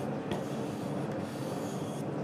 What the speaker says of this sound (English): And I sand a little and I wipe it so that I can see it